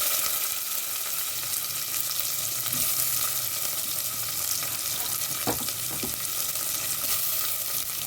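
Chopped onions fry in a pan for chicken biryani, giving a loud, continuous, close sizzle with a few faint stirring knocks and no voices.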